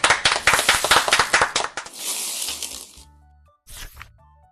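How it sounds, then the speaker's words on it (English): A burst of quick, loud hand claps rings out close by, fading into a cheer-like swell, then one more short clapping flourish over a soft jingle. "Give yourself a big clap."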